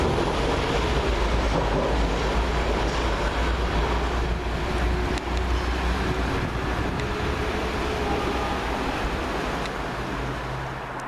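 London Midland Class 331 train pulling away from Smethwick Galton Bridge station, a loud, steady rumble and roar of rail wagons that runs through the whole stretch with no talking.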